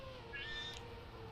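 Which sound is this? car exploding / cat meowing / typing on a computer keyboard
cat meowing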